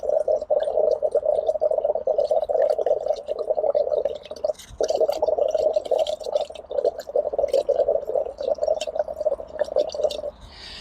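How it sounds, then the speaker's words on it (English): Air blown steadily into aquarium water with a bubbling, gurgling burble that runs almost continuously, with one brief pause midway. It is close and fairly loud, with small splashy drips scattered on top. "Now here's what happens when we blow bubbles into the non-stabilized water."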